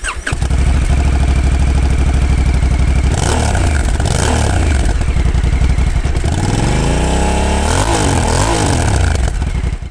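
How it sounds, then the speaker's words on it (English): A 2022 Honda NT1100 motorcycle exhaust gives a loud, deep low-rpm throb up close, with the engine note swelling and falling through a few revs over a steady idle-like pulse. "they've tuned the sound for a pleasing low RPM throb"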